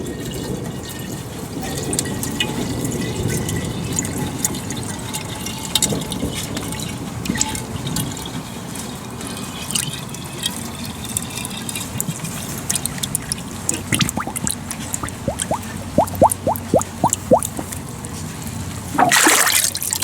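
Water pours into a clean sweet tea or milk jug as it is filled, a steady liquid rush running for about twenty seconds with small drips and splashes, close by and fairly loud, with no talking.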